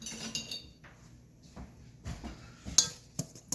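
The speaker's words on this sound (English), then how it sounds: "Whisk this together." Ingredients for a tropical coconut cake are whisked in a bowl, producing faint, close clinks and taps of metal against the bowl in short irregular bursts, without talk.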